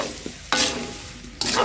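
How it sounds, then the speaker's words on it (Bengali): Marinated mango pieces for a mustard mango pickle hit about 100 grams of hot oil, giving bursts of loud sizzling and frying with stirring scrapes between them. "এখন আমি মেখে রাখা আমগুলো একদম ঢেলে দিচ্ছি সম্পূর্ণ।"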